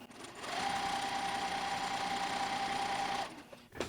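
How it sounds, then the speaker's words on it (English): A sewing machine runs one steady, continuous stay-stitching pass along the edge of fabric for pants at half an inch. It sounds close and loud, with a start-up and a stop near the end and no talk. "So let's go ahead and stay stitch that right now."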